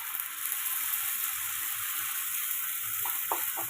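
Tomato paste frying in hot oil with spices in a home kitchen, a steady loud sizzle filling the whole stretch, close by, with a few faint stirring clinks near the end and no talk.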